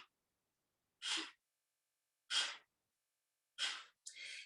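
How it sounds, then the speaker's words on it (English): Breath of fire in a solar plexus yoga practice: three quick, forceful exhales blown out through the nose at steady intervals, then a longer breathy push, close and otherwise silent. "it's as though you're just blowing air out of your nose"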